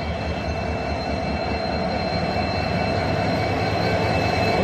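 A military train rolls past on the railway just outside a platform, a loud, steady rumble of wagons and wheels on track with a thin, constant high squeal running through it.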